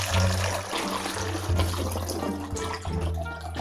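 Liquid pours steadily into a measuring container marked in ounces, a continuous splashing, gurgling stream that is fairly close and loud, with slight shifts in flow.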